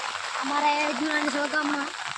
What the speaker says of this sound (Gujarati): અમારે વરસાદ જુઓ આ બાજુ પણ વરસાદ ચાલુ જ છે